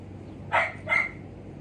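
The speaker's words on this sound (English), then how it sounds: "My little corgi's in there barking at fairies," Two quick, sharp barks from a small corgi, close by, with a short pause between them.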